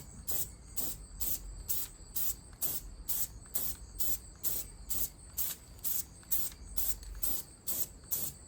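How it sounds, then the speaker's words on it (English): Rust-Oleum automotive enamel clear coat hisses from a spray can onto a car in about fifteen short, evenly spaced bursts, close and steady, with nothing else heard. "we're gonna go ahead and start hitting it with some clear coat. I am gonna be using Rust-Oleum automotive enamel right here"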